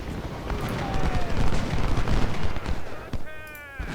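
Rumbling artillery fire from Ultimate General: Civil War, a dense stretch of booms and crackling blasts over several seconds, with a brief whistling tone near the end.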